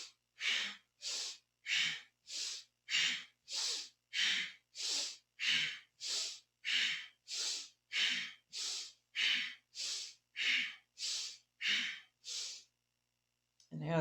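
Forceful rhythmic breaths in Kundalini yoga, about sixteen strong bursts at a steady pace of roughly one per second, each paired with alternating shoulder lifts, close and loud with brief gaps between.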